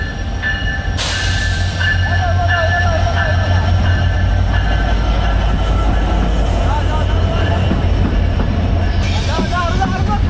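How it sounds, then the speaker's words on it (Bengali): The Drutojan Express passenger train pulls into a station platform with a heavy rumble, rattling wagons and high squealing wheels, loud and close throughout. "চলে আসলো দ্রুতযান এক্সপ্রেস"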